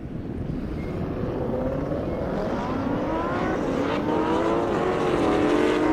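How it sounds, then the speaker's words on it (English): A Lamborghini Huracan launches down a half-mile airstrip drag race, its engine roar building and rising in pitch as it accelerates, steady and fairly loud throughout. "Lambo with the launch"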